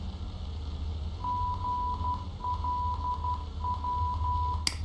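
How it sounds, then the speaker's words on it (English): Morse code identifier of an ADF/NDB navigation beacon on an approach to Glasgow Airport: a steady pure tone keyed in short and long groups, repeated three times over a constant radio hiss and low rumble. "when we're listening to those beeps and tones, the Morse code"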